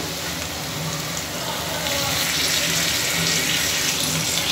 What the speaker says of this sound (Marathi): आता आपण थोडं पाणी घालूया